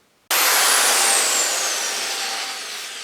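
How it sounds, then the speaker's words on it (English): A power drill boring holes into wood for a bonsai staging stand, starting abruptly and running as one loud continuous whine that holds steady for about three seconds, close by with no talk. "that's all the holes drilled"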